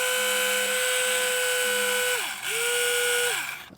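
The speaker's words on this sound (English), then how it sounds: "I'm going to try to drill through the J right here." A Tamiya electric handy drill runs steadily close up with a whining motor tone, briefly dipping and spinning back up as it bores into scrap plastic.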